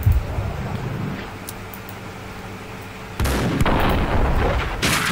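In Max Payne 2, sniper rifle shots boom heavily: one opens the sequence, and two more follow a few seconds later amid low rumbling ambience.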